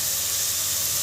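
Fenugreek leaves sautéing in a pan of methi dal give off a steady, bright sizzle, an even hiss that holds without a break and with no voices over it.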